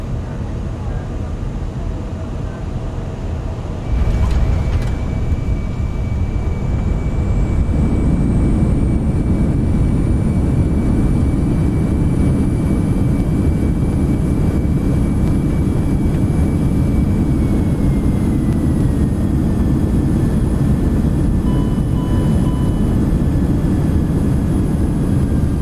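Aerosoft CRJ-900 airliner in Microsoft Flight Simulator with an add-on engine sound mod: a steady, loud jet roar with high whining tones that rise and shift, continuous throughout with a voice talking over it.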